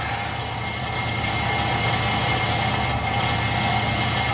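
A 4x4 Astro van engine idles with a steady low rumble and faint rattle, continuous and close, with no talking.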